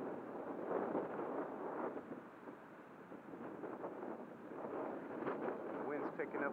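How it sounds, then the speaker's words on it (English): Wind rumbles and buffets a microphone outdoors during a windy E-Flite Timber RC plane flight, a continuous broad roar under faint talk. "the wind's picking up a little bit"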